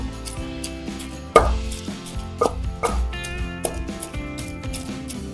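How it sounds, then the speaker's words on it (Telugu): Onions pounded coarsely by hand for a village-style chutney, giving a few heavy, irregular thuds over a steady tonal background. "ఈ ఉల్లిపాయలు కచ్చా బెచ్చాగానే దంచుకోవాలి మరి మెత్తగా దంచుకోవద్దు"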